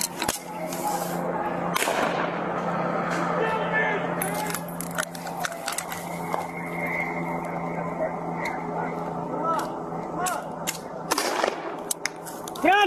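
Police fire sharp shots at protesters in a few scattered cracks over a crowded outdoor scene with steady background noise and people talking.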